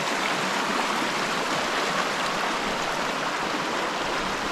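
Creek water runs in a steady, dense hiss and gurgle, close and continuous with no voices over it.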